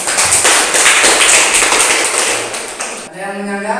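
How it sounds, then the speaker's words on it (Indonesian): A classroom group of students and teacher breaks into loud, dense applause that carries on for about three seconds and then cuts off abruptly. "berikan aplaus untuk kelompok"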